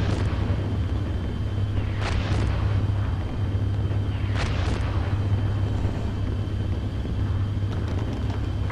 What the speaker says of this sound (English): Our artillery continued to fall,